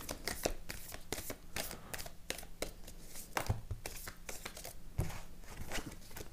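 A deck of playing cards being cut by hand, giving a run of close, crisp papery clicks and short riffling flutters at an uneven pace, with no talking.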